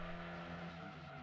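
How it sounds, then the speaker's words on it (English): A car slides through a corner in the Gran Turismo 2 racing game, a brief, faint steady engine drone with tyre noise, heard alone. "A very, very easy slide"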